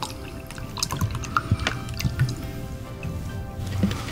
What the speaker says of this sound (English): Top it off with some water.